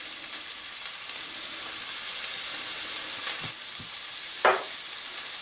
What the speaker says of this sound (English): Alright, so in with the onions.